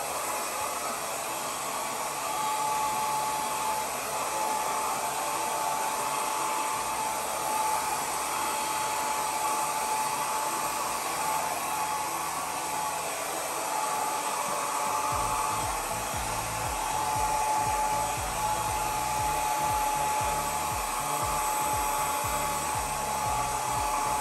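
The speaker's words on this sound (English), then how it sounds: "I got a little itty bitty hair dryer here" A small one-speed hair dryer blows steadily on poured acrylic paint, a close, continuous whooshing hum with a slight shift in tone partway through, no voices.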